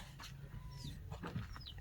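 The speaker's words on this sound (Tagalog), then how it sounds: "ang daming manok, guys" Chickens cluck softly nearby with a couple of high chirps over a quiet, low outdoor hum.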